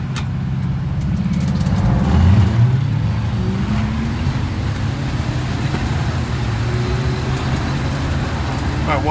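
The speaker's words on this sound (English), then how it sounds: "traffic seems to have thinned out a bit" Steady roar of passing road traffic around a rider on a road, a continuous broad rumble of cars and larger vehicles with one vehicle swelling louder early on.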